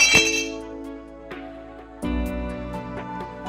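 A bowl of gandharaj paneer is lifted out of hot water, giving a sharp ringing clink at the start, a lighter tap midway and another resonant clink that rings on as it is set down.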